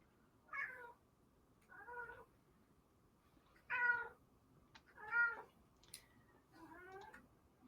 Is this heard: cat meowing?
yes